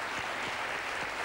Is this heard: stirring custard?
no